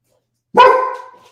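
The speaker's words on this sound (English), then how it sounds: "oh my gosh, our dog is going nuts." A single loud dog bark, close by, with a short ringing tail.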